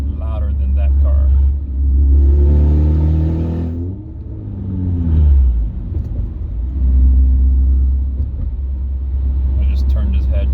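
A loud car engine with no catalytic converter rumbles deeply at about 1500 RPM as the car drives, with rising and falling revs and talk mixed in throughout.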